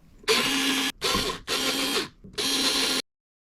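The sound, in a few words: unscrewing ceiling fan screws and attaching blades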